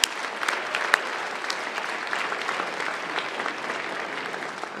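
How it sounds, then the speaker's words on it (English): A State of the City audience in Pleasanton breaks into sustained applause, with a dense, steady clapping crowd filling the hall for several seconds and no talking over it. "Give yourself a big round of applause."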